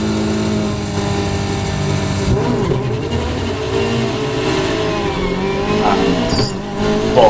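A Caterham race car engine bogs down at a race start among other racing cars, a loud, strained drone that rises unevenly and struggles to climb, with surrounding engines revving close by; no voices.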